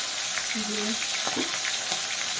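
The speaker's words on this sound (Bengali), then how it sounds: "মাথা আমি দিয়ে দিলাম তেলের মধ্যে ভাজা হয়ে যায়" Hilsa fish heads fry in hot oil with a steady, close sizzling hiss that runs unbroken through the clip, with a few faint short sounds over it.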